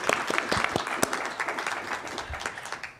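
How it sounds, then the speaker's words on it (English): Audience applauding after papers at a church history symposium, a few seconds of scattered, fairly sparse clapping from a modest crowd in a hall, some claps standing out close by. "Let's give them a round of applause."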